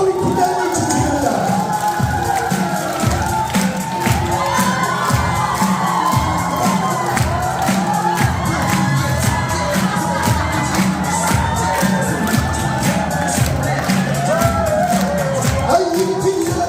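A lively crowd at a university MT retreat in Gyeongju cheers and shouts steadily throughout a team leaders' dance contest, a dense, unbroken wall of voices with whoops, close and loud, with music or talk faintly underneath.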